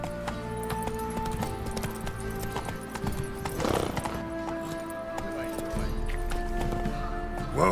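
Hoofbeats of Geralt's horse Roach ride steadily in The Witcher 3, a continuous clip-clop under in-game music and ambience, with a brief swell mid-way.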